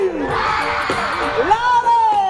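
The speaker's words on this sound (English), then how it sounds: "Say, now scream!" A crowd at a 2015 MMAC event screams and whoops together in a sustained, loud mass of voices, with a few individual yells rising above the roar.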